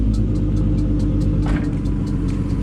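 Car engine running just after starting up following a Seafoam treatment, a loud, close, steady low rumble with a faint rhythmic ticking on top and a brief rise in pitch midway.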